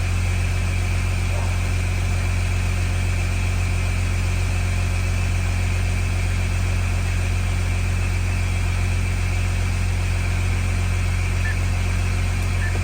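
A VW Touareg 7P 3.0 V6 TDI diesel idles while warming up, giving a steady, even low drone with a faint mechanical hum above it. It runs continuously with no talking.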